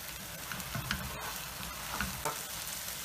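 Prawns sizzle steadily in a pan over high heat, a constant close hiss of frying with a few soft stirring scrapes, no talking.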